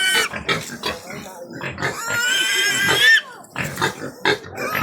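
A pig at a farm in Ganippa grunting and squealing in short harsh bursts, with one long rising squeal in the middle, close by and loud, while people talk around it.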